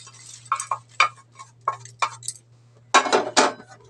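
Roasted whole spices with bay leaf scraped from a pan into coconut: a series of sharp metallic scrapes and clinks at uneven intervals, then two louder scraping strokes near the end, over a low hum.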